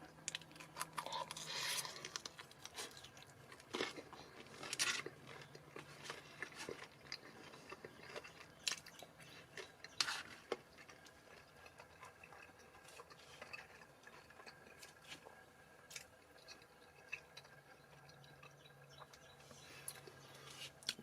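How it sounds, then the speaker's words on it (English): Quiet crunching and chewing of a bite of toaster oven pizza with a crunchy, crispier bottom crust, close and faint, a steady series of small crackles and bites over about twenty seconds with no talk. "Excuse the chewing."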